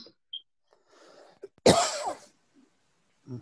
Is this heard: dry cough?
yes